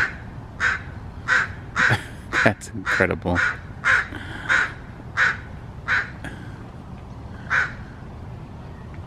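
A crow caws repeatedly among old trees in a forest, about a dozen loud harsh calls at a fairly even pace, close by, with a person briefly speaking over the middle of the sequence.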